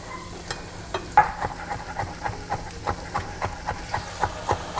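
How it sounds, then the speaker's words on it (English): Diced tomatoes being stirred into Cajun shrimp in a pan for shrimp and grits, a steady run of close, regular scraping strokes over a soft sizzle, with no talk. "Mix that all up together."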